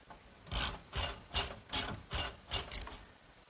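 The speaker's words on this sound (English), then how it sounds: "Now a washer and a nut, tighten it down" A ratchet wrench tightens a nut and washer onto a bolt at a wooden pencil post bed frame connection, giving seven quick, close bursts of clicking in a steady rhythm, with no talk.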